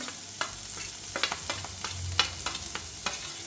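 Crispy corn with green chillies is stir-fried in a pan over medium flame, a quiet, close sizzle broken by frequent quick scraping stir strokes and light clinks at an uneven rhythm.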